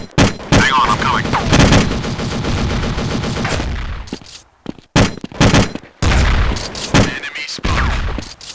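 Gunfire in Counter-Strike during a port battle: a loud sustained burst of rapid automatic fire, then a short lull and several choppy bursts and single shots.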